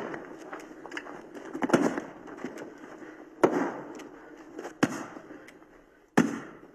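Sharp prop-gun shots ring out on a film set, a few separate loud cracks spaced several seconds apart over a quieter shuffling, rustling background, with no speech.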